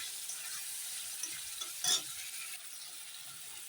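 Spice masala sizzles steadily in a pan for a fish curry, a faint continuous frying hiss with a brief stir scrape near the middle, no talking.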